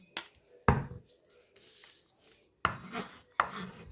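A knife chops onion finely on a board for a homemade onion syrup: a few sharp, close cutting strikes separated by pauses, with soft rubbing between them and no talking.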